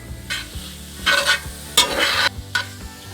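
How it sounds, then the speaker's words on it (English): Hamburger meat coated in chili seasoning stirred in a cast iron pan, scraping strokes of a utensil in bursts over a soft steady sizzle, close by with no talking. "we're going to stir it until we have our chili seasoning basically coating all of our hamburger meat"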